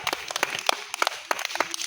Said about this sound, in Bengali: আপনার জন্য সবাই হাত হাততালি হাততালি হাততালি